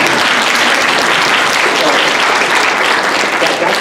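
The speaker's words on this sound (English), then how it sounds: "So, you have to clap for that." A lecture hall audience at an international relations talk breaks into loud, sustained clapping, dense and even throughout.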